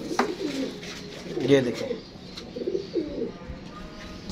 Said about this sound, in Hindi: ये टैडी कबूतर है और टैडी ही मादी माशाल्लाह लगाई है।